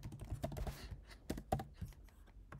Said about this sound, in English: I will write my email ID